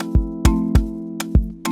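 Short, punchy piano-like chords in an afrobeat mix repeat in a syncopated pattern, each struck hit backed by a deep kick-like thump, loud and close with no talk.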